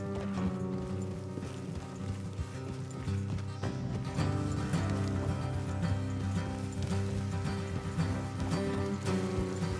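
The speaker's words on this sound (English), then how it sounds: "Let's leave the horses here and go the rest on foot." Horse hooves clip-clop steadily on the ground in the Red Dead Redemption 2 video game, a continuous rhythmic patter of riding horses heard close, with no talking.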